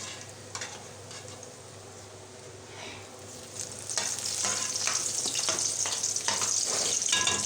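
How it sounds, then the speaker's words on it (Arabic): Bell peppers, spices and minced garlic frying in a pan, a steady sizzle that grows louder and brighter midway, with intermittent stirring scrapes and no talk. "نزلت بقى بفلفل الوان زي ما انتم شايفين والتوابل بتاعتي، وحطيت ملعقه من الثوم المفروم"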